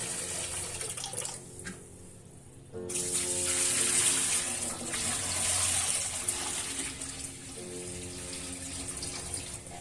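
Rice for biryani is washed under running water, with a quieter trickle at first giving way to a louder, steady gush and splashing that continues to the end.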